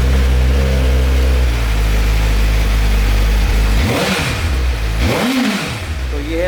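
A stock Suzuki GSX-R motorcycle engine idles loudly and close, then is blipped twice, each rev rising and falling in pitch before settling back to idle.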